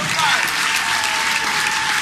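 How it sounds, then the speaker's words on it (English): An audience gives a speech crowd another round of applause for the mayor, a full, continuous burst of clapping heard close and loud. "let's give him another round of applause"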